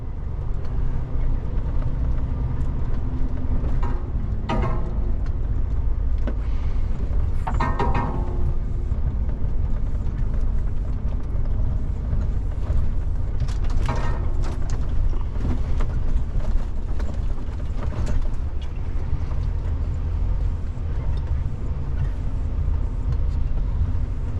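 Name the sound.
truck driving while transporting a Komatsu PC360 excavator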